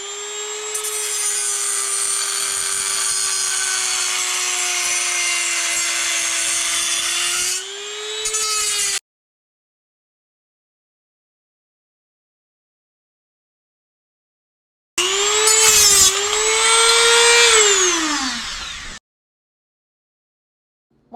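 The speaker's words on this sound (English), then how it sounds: "Here we are using a Dremel to remove the tabs on the back of the bucket." A Dremel rotary tool whines at a steady high pitch as it cuts tabs off the back of a 1993-97 Firebird headlight bucket, in two close bursts. The second burst dips in pitch under load, and there is silence between them.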